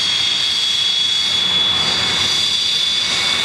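At the Bruntingthorpe air show, a Cold War jet's engine roars in a loud, steady whine with a piercing high tone. The sound is constant and close, with no break.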